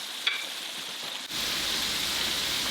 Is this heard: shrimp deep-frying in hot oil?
yes